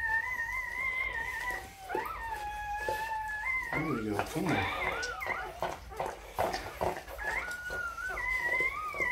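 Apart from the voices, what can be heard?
newborn puppy whimpering during whelping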